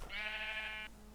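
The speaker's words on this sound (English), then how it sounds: "sheep, a lot of sheep." A single drawn-out sheep bleat from Minecraft, close and clear, lasting under a second with a wavering, nasal tone over a faint low hum.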